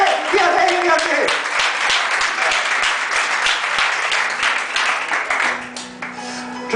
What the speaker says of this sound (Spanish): ¿Cuántos pueden dar un aplauso al Rey de Reyes?